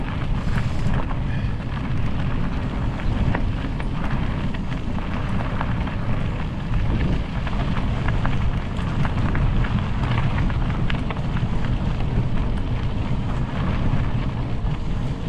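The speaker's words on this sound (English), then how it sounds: "it is kind of breezy" Strong, steady wind buffets the microphone on a breezy bike ride along a greenbelt path, a constant dense roar that lasts the whole time, with a rider speaking briefly under it.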